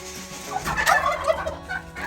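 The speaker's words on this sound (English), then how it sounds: "Big turkeys, huh?" Turkeys on a ranch gobble in a quick, warbling burst, close by, with a few shorter calls trailing off afterward.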